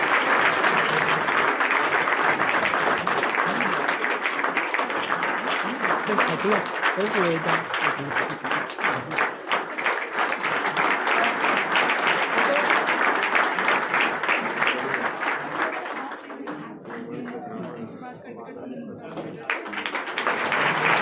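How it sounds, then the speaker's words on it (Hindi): Loud, sustained applause greets the state defence minister at a BJP Goa Bihar Diwas celebration in Panaji, a dense crowd clapping steadily for about twenty seconds with a slight dip near the end. "देवी और सज्जनों, जोरदार तालियों के साथ"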